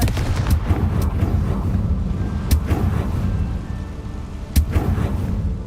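A Confringo spell blast in a video game: several sharp, loud bursts over a constant rumbling, windy roar, with the strongest cracks near the middle and toward the end.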